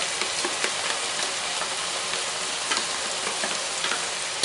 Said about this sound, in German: Und lasse das Ganze jetzt mal auch noch ein bisschen brutzeln.